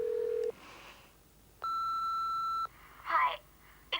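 Telephone tones: a steady tone cuts off, then after a pause a sustained answering-machine beep sounds for about a second, followed by short electronic chirps and a brief voice fragment.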